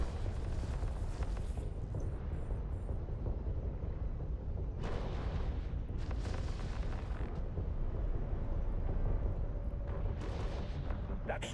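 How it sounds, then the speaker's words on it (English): Stasis weapon fire in the space game Eve Online, a continuous heavy rumbling roar with repeated booming bursts, loud and dense throughout. "Stasis weapon fire, target lock confirmed."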